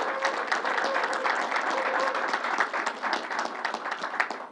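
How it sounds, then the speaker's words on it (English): Sustained, dense applause from a church audience at a Grace Baptist Church event with New York Governor Andrew Cuomo, steady and loud throughout with no pauses. "Let's give him a round of applause for all his good help."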